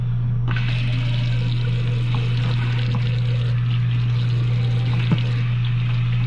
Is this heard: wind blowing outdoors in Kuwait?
no